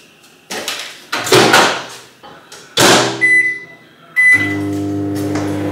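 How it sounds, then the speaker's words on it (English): A microwave oven heats a runny mixed batter: a few door and handling thumps, two short electronic beeps, then a steady, close electrical hum that starts and keeps going to the end. "pop it in the microwave for 1 minute."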